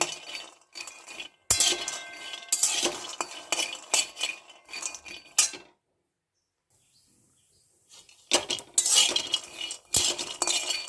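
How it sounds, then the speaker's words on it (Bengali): Peanuts are dry-roasted in a wok and stirred with a metal utensil, giving bursts of clinking and scraping that pause for a couple of seconds of near silence before resuming. "বাদামগুলো লালচে করে ভেজে নিয়েছি"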